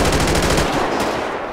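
Rapid automatic gunfire from prisoners in a GTA 5 game riot, a loud close burst of evenly spaced shots that cuts off after about a second.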